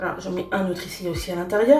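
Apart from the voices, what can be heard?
No everyday noises stand out.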